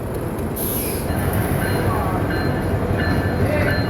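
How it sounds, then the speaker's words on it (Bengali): A passenger train hauled by a Hyundai locomotive rolls into a platform at Kamalapur railway station, a loud steady rumble with a brief high squeal early on and a busy station around it. "এই যে ট্রেনটি বেলবাড়িয়ে বেল বাজে তার প্ল্যাটফর্মে প্রবেশ করছে"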